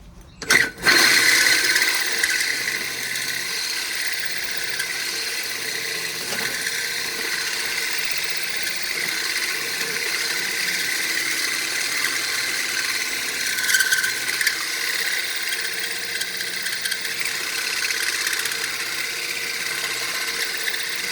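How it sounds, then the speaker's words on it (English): A hole saw grinds steadily into a sewer pipe while clearing a stoppage, a continuous rasping, whirring cut close by that holds an even level for about twenty seconds, with no talking. "I'm gonna lube up my hole saw. But let's keep cutting."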